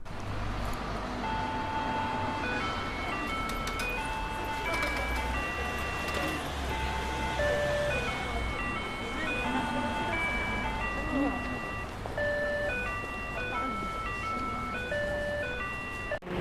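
A simple electronic chime melody from a Japanese railway crossing in Yokosuka plays over and over against road and rail traffic rumble, with background voices underneath.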